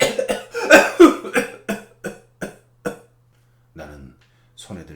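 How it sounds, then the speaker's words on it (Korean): A man coughs in a quick run of sharp bursts, then the coughs space out into single softer coughs with pauses between them, close to the listener. "남편이 다시 기침을 했다."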